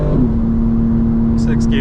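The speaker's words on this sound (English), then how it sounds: "It's that fifth gear whine." A steady high-pitched gear whine from a car cruising in fifth gear, sustained and even over loud engine and road rumble inside the cabin.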